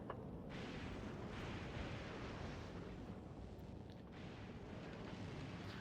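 Rocket silos launch in Factorio, a deep, continuous rumbling roar that holds steady and fairly loud for several seconds with faint swells, no talking.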